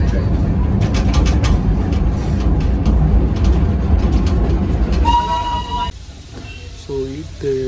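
The Darjeeling steam train in West Bengal rumbles along with loud, continuous rolling and rattling, then the noise drops and brief tonal whistle or horn blasts sound near the end.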